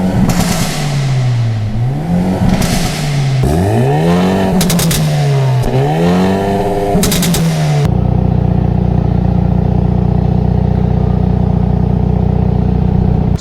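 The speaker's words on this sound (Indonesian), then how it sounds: "Jadi lihat knalpotnya gede banget dan suaranya luar biasa." A Hyundai N car with a large exhaust revs repeatedly, its engine pitch sweeping up and down in loud surges, then settles into a steady, heavy rumbling idle close by.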